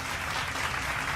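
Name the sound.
round of applause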